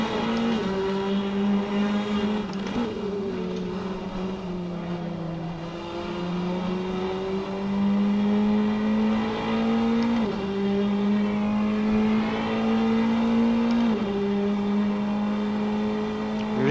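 Prototype race cars in a racing video game, engines droning loud and steady with rising and falling pitch as they accelerate and shift gears, a continuous close roar with no talk.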